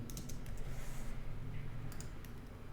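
Someone types on a computer keyboard, producing a quick run of light, close clicks in short bursts with brief pauses between them, over a faint steady background hum.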